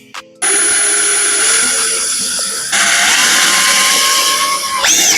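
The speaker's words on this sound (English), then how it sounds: "all I'm gonna be doing is just drilling holes to the vents" Power drill boring holes into the hood of a Mercury Grand Marquis, a loud, steady high-pitched whine that runs almost continuously, with a short pause partway through and a shift in pitch near the end.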